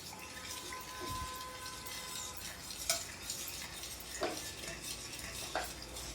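Torn basil leaves are stirred into a panakam drink, with faint liquid swishing and a few light clinks of a spoon against the vessel over a soft background.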